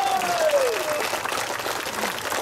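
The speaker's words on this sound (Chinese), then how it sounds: "拍手啦喂！" Crowd clapping at an outdoor political rally in Ipoh, a dense continuous wash of applause from many people with a voice shouting over it at the start.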